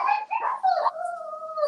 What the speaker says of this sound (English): They heard my dog bark.